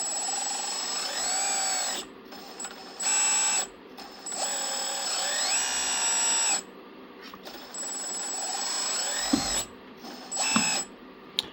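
A small hydraulic pump in a 1/16 scale RC Ertl Deere 200D LC excavator conversion whines steadily in bursts, rising in pitch as it speeds up with combined movements, then cutting out between actions.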